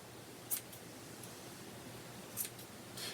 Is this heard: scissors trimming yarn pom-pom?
yes